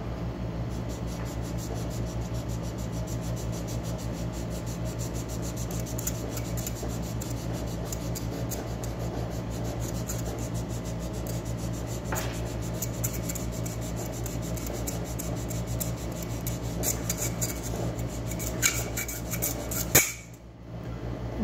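Rubber eraser scrubs steadily across an orange Sigma Phoenix sharpening stone to clean it, a continuous close rasping rub with no pauses, ending in a sharper scrape near the finish.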